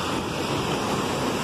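Sea waves breaking on a sandy beach at Bournemouth, Dorset, a continuous broad wash of surf mixed with wind noise on the microphone, steady and fairly loud, with no voices.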